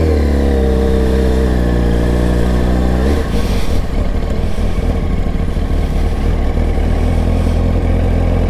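A Yamaha R1 motorcycle engine runs loud and close, holding a steady tone before climbing in revs partway through and staying raised with a rough, busy drone.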